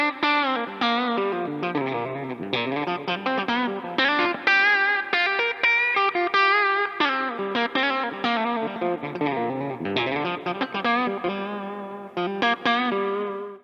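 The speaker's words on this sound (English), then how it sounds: "And then of course you have your bridge for those twangy telly tones." A 2019 Gibson Les Paul Standard electric guitar in Blueberry Burst, played on the bridge pickup in single-coil mode, rings out in fast, bright, twangy lead phrases with effects, loud and close, with no voices.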